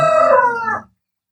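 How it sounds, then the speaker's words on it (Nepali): Rooster crowing once, a loud close cock-a-doodle-doo that lasts under a second and then stops abruptly into silence. "त्यो भालेलाई मार न हौ"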